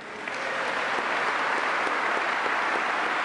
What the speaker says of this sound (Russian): Когда Зеленский говорит, что Россия проиграет, ему аплодирует весь британский парламент.